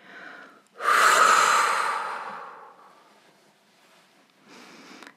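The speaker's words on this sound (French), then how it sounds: "Laissez votre corps reprendre une respiration normale" A long, deep exhale releasing held breath during a guided sophrology relaxation exercise, a loud breathy rush fading over about two seconds, followed by a softer breath.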